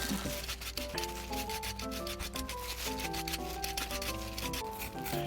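Steady scraping and rubbing of a peeler against a deodeok root, repeated short strokes under soft background music.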